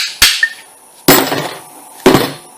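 Three sharp hammer blows pounding stuck factory Honda front brake pads out of a 2003-2010 Accord caliper, evenly spaced about a second apart, loud and close, each with a metallic ring and a short echo, no talking.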